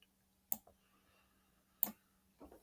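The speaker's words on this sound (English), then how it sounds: "I'm going to move the mouse pointer down here and click the Save icon" Computer mouse clicks, two sharp, distinct clicks about a second apart followed by a softer third, close and quiet in an otherwise silent room.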